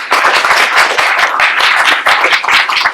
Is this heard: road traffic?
no